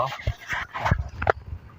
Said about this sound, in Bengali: এই যে দেখেন আমাদের মুরগি